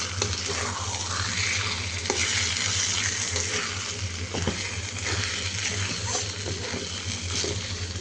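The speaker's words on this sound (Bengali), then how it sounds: "বেশি করে পেঁয়াজ কুচি কাঁচামরিচ সব কিছু দিয়ে ভুনা করতেছি" Small shing fish frying in a pan with plenty of chopped onion and green chillies, with peppercorns and cardamom. A steady, close sizzle runs throughout, with occasional stirring scrapes and spatters.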